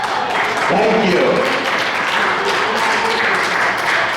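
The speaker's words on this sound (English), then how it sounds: "let's give her a round of applause" A senior audience at a comedy show in Palmdale applauding a performer's entrance, steady clapping with voices talking and calling out over it.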